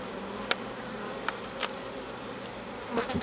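Honey bees buzz around an open hive during a hive inspection, a dense steady hum of many insects close by with a few faint clicks and knocks over it.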